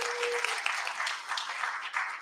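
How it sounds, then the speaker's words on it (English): Steady crowd applause at a Sunday morning church service graduation ceremony, a dense wash of clapping from many hands that continues evenly throughout. "Give them a big round of applause."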